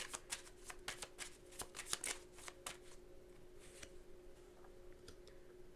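A deck of tarot cards is shuffled up close in quick bursts of crisp riffling clicks, then lighter, sparser flicks as the cards settle and one is drawn. The shuffling is quiet and no one speaks.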